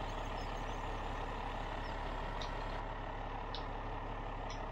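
A Kenworth truck's engine runs steadily, a low continuous rumble close by with constant droning, a few faint high chirps over it, and no talk.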